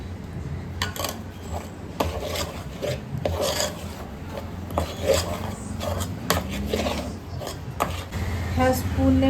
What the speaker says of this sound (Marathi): ह्या स्पूनने मिक्स होत नाही आहे म्हणून मी हा जुगाड करून लाटणं यूज करत आहे.